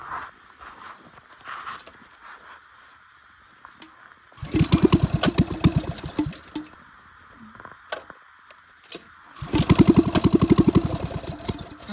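A small mini bike engine on snow revs in two loud buzzing bursts, each lasting several seconds, separated by quieter idle and near silence.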